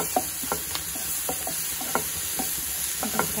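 Curry ingredients with turmeric frying in a pan with spring onion, paneer and peas, an even close sizzle under a regular series of spoon scrapes and taps roughly every half second, no voices.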